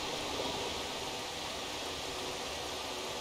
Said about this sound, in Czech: Tak je krásný vodopád.